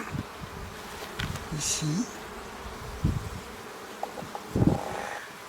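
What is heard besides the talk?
honey bees buzzing on a brood frame in a hive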